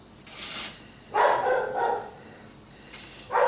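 A dog at a home with window screens barks a few times in short bursts, moderately close, with no talk.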